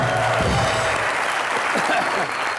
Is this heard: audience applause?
yes